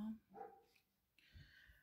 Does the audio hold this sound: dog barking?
yes